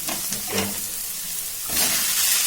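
Tomatoes added to onions frying in a pan, with a few soft thumps and stirring scrapes followed by a louder, steady sizzle that swells near the end, close up and without speech.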